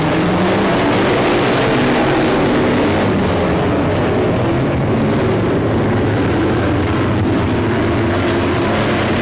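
Race cars roar loudly together at the green-flag start out of turn 4, a dense, continuous engine drone that fills the whole stretch without letup and with no talk over it.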